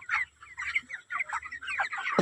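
Chickens cluck in a steady series of short, close calls, several birds overlapping with brief pauses, and a sharper squawk near the end.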